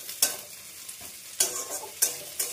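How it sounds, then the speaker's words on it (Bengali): Green chilies fry in hot oil in a pan, a steady close sizzle broken by several sharp bursts of spattering and stirring roughly every half second to second; no voices. "এবার এটা একটু ভাজা ভাজা করব"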